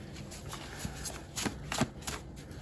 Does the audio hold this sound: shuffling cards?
yes